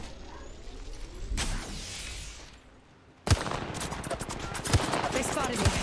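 Rapid gunfire in the mobile battle royale game Apex Legends Mobile, a burst early on, then dense, sustained volleys of loud shots after a brief lull.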